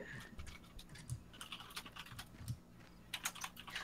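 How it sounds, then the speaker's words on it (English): Fingers clatter rapidly over a computer keyboard, quick bursts of soft key clicks heard faintly at a slight distance, with no speech. "she's typing up a storm. I just hear fingers flying over there"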